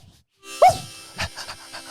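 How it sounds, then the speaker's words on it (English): A dog jumps on a man, whining and panting in short bursts, close and fairly loud, with no speech over it. "Get this damn dog off of me."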